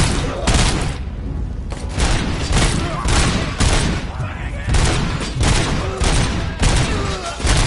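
Gunfire in the video game RoboCop Rogue City: loud, repeated bursts of shots with heavy booms at a steady rhythm, continuing through the whole stretch.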